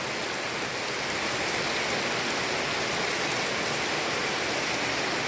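Steady rain falling onto an outdoor path, a dense, even hiss of drops that holds without a break, close and moderately loud.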